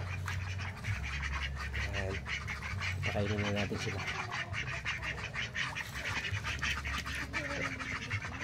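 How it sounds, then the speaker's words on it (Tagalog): Ducks quack in short repeated bursts amid farmyard noise while a person speaks briefly nearby. "May mga pato din po tayo ngayon."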